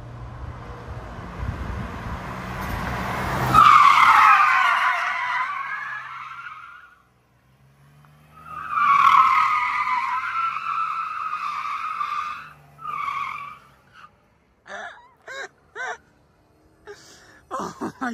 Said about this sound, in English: I don't keep a good donut, but it slides. I was sliding it.